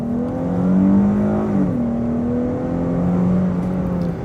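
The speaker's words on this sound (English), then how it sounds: "let's floor it again right here" A 2023 Dodge Charger with a 292-horsepower V6 accelerates at full throttle, its engine note loud and close as the pitch climbs, dips briefly at a shift, then holds a steady strained drone.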